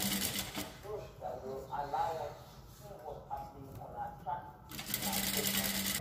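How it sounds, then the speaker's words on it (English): A sewing machine stitches bias tape onto a transparent corset, its steady mechanical whir running in bursts near the start and end, with a person talking over the middle stretch. "Take it to the sewing machine and sew."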